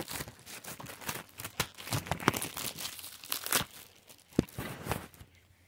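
Plastic wrap crinkles and tears as it comes off a Blu-ray case, giving a steady run of close, crisp crackles and rustles with a few louder snaps and no talk.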